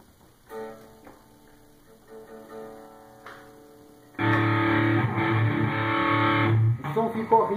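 Electric guitar played clean with ringing sustained notes, then kicking into a loud, dense distorted chord from a distortion pedal feeding a tube amplifier, holding steady before briefly cutting out and returning.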